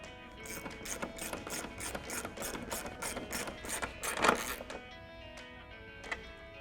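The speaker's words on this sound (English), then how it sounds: "Tighten it down with our 13mm socket." Rapid metallic clicking of a ratchet driving a 13mm socket as headlight bolts are tightened on a 2018-2020 Ford F-150, several close bursts with brief pauses between them and no talking.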